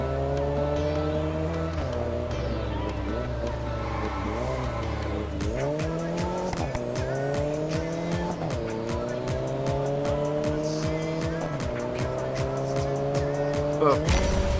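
A race car in the video game Test Drive Unlimited Solar Crown revs hard and shifts through gears, the engine whine climbing and dropping repeatedly, with tire squeals and game interface clicks over a constant, loud roar.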